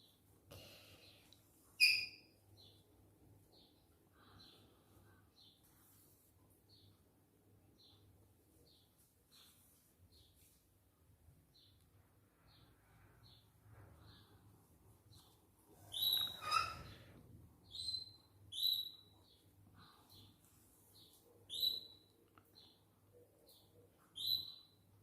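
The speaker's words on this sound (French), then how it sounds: "vous entendez mes oiseaux. Les canaris sont dans les nids" Pet canaries in their nests indoors, giving short high chirps and brief trills, sparse at first and then more frequent, faint against a quiet room with no talking.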